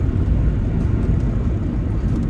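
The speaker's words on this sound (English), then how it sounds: "Sounds like I don't have my sunroof parked all the way." Wind roars through the partly open sunroof of a 1995 Buick Park Avenue while driving, a steady, broad rushing noise with low rumble underneath, continuous and fairly loud.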